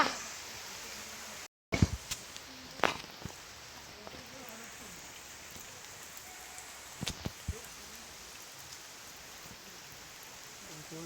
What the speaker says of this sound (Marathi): इथे जोरात पाऊस सुरू झाला